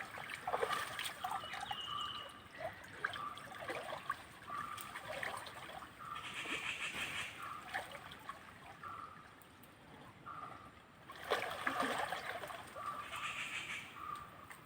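A dog splashes in a stream: water trickling and splashing, with irregular bursts of movement through the water and birds calling in the background.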